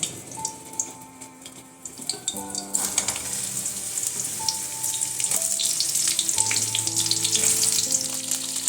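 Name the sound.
ridge gourd pieces frying in oil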